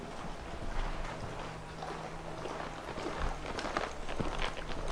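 A horse's hooves clop on the ground in a steady trot during a riding lesson, soft and moderately distant over faint ambient noise.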